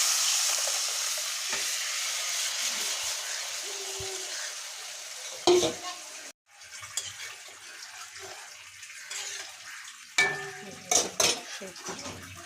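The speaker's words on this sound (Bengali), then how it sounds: "এবার আমি ডালটাকে দিয়ে দেবো।" Dal (lentils) tipped into a hot pan, frying with a steady broadband sizzle while a utensil stirs and scrapes, followed by sharper clinks and knocks of spoon against pot near the end.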